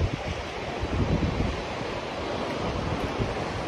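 Ocean waves break on rocks along the coast of far northern Ireland, a continuous loud roaring wash of surf with wind buffeting the microphone, close and steady throughout.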